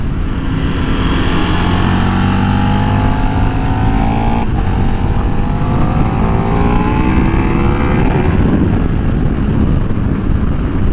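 A 2024 KTM 1390 Super Duke R Evo motorcycle engine drones loudly and steadily while riding, its pitch sweeping up and down through gear changes, with heavy wind rush and no talking.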